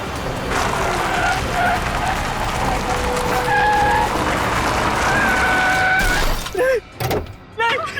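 A car races and skids to a halt, a long loud rush of tire noise with thin squealing tones, then cutting off into a few sharp knocks and brief sounds.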